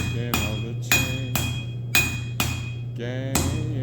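Hammer striking a railroad spike at a forge, sharp metallic blows landing in a steady rhythm about every half second, ringing clearly and close.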